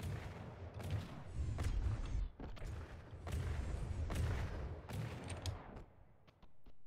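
Blast guns on fighter jets fire in the combat game From the Depths, making a series of faint, distant broadband cracks and thumps over a low rumbling background, spaced irregularly across the stretch.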